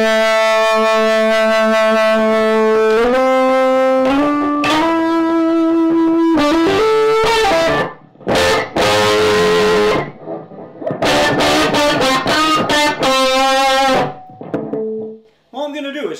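Electric guitar through a Fulltone GT 500 FET distortion boost pedal turned up full plays sustained notes and chords, heavily distorted, loud and buzzing, with a few short pauses between phrases.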